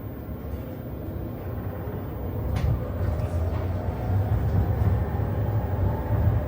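A Wolmi Sea Train rumbles low and steady, its engine noise building gradually as it pulls away from Wolmi Park station, with a faint squeal partway through.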